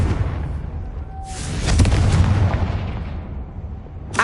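Explosive Confringo spell blasts in Hogwarts Legacy, a deep rumbling boom that swells and lingers, then fades, with a sharp pop at the end.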